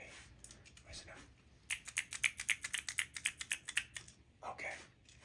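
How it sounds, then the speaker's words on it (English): Small keyboard fidget toy clicked in a quiet room, a quick run of sharp, close, crisp clicks with a few isolated taps before and after. A soft voice is heard briefly. "I'm going to have you tell me when I click my little keyboard fidget"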